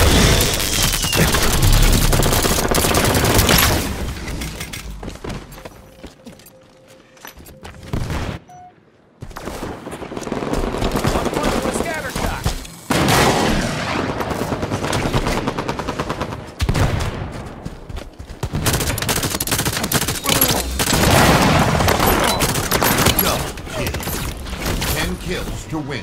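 Sustained automatic gunfire and explosive bursts from Halo 5 multiplayer Super Fiesta, loud and dense throughout with brief lulls, as game voice callouts sound over the action.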